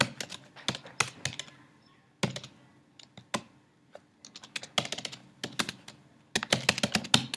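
Python code being typed on a computer keyboard: crisp, close key clicks in irregular bursts with brief pauses, some quick runs of strokes, heard alone with no talking.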